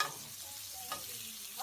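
Jerk chicken sizzles and fries in a hot pan while browning, a steady close crackle with one brief louder burst, no talking.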